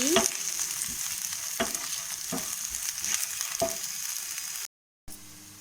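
Okra sizzling in hot oil in a pan as it is stirred, a steady bright fry broken by a few scraping strokes of the spoon, ending in a brief silence and a quieter sizzle.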